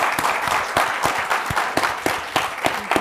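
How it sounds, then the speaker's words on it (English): Audience applause following a panel discussion on economic sanctions, with steady clapping across the whole stretch and sharper individual claps standing out at the front, fairly close and loud, with no speech over it. "join me in a round of applause"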